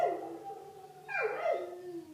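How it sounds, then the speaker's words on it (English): Dogs howl in the distance, faint drawn-out wavering tones that rise and fall, with a second howl overlapping near the end. "I can hear dogs howling."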